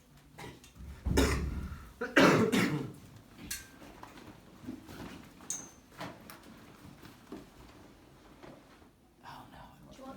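A couple of harsh coughs close by near the start, then quiet murmuring voices and faint room noise.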